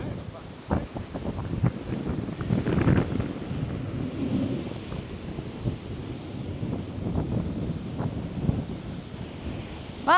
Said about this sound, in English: Right, it's windy up here.